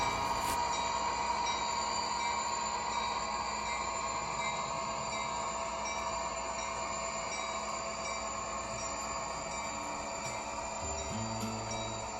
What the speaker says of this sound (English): As the engineer releases the brakes and hits the throttle, we'll head up a line just a little bit